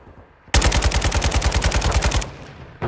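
Automatic gunfire in Modern Warfare 2, a loud rapid burst of about two seconds of evenly spaced shots following a quiet moment, with another shot starting at the end.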